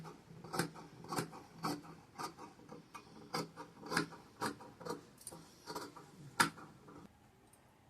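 Scissors cut blouse fabric in a round shape, giving a steady rhythm of soft, close snips and rasps about twice a second that stop near the end, with no talking.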